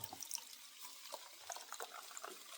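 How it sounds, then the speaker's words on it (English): Chicken broth pours into a measuring cup in a home kitchen, a light, continuous trickle and splash of liquid with small bright droplet sounds, close and fairly quiet. "So we're just going to pour it into a measuring cup just like this."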